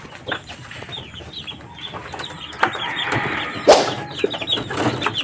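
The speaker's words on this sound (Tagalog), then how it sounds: "bisitahin natin yung mga sisiw natin dito sa brooder" Chicks and young fowl in a brooder, with steady overlapping peeps and clucks, a brief flutter of wings and some louder calls close by, on a farm on a drizzly day.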